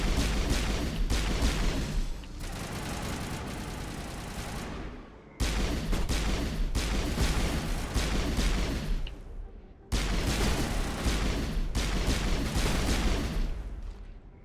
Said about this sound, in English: Yeah, they both use assault rifles.